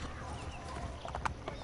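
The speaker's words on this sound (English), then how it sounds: "Get off the horse." Horse hooves clip-clopping in Assassin's Creed Brotherhood, a brief run of soft, quick hoofbeats with faint game ambience and a small whinny-like sound near the end.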